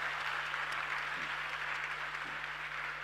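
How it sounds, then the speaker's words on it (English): Audience applause at a youth dialogue session, steady sustained clapping from a crowd throughout, evenly loud with a faint electrical hum underneath. "I think it deserves another round of applause."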